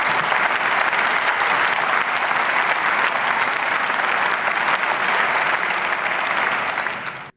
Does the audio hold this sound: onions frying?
no